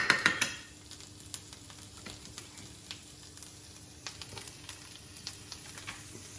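Capers and parsley sizzle quietly in leftover butter in a frying pan, a soft steady crackle with a few sharper clicks and taps at the start, faint and with no voices.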